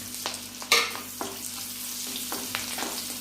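Ginger garlic paste frying in a pan for an egg curry, a quiet steady sizzle with a few scraping stir clicks, close and without talk.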